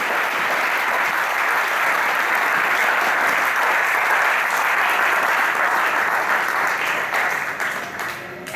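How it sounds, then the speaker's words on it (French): An audience at a church seminar claps in sustained, dense applause that fills the room evenly before tapering off at the end. "Est-ce qu'on peut l'applaudir?"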